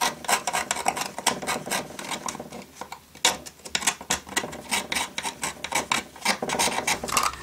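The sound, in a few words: screwdriver scraping battery corrosion off toy contacts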